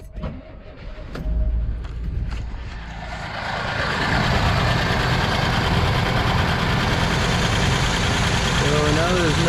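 Cutlass Supreme being restarted: a few clicks and cranking bursts, then the engine catches and settles into a steady, rough running drone, with faint voices and a short chirping sound near the end.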